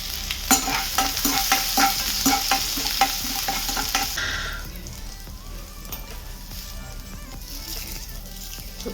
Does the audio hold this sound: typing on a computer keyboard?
no